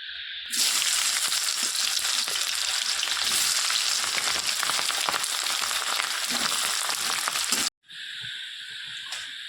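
Chopped onions frying in hot oil for a biryani, a loud steady sizzle that runs continuously for about seven seconds, then breaks off abruptly before resuming more quietly.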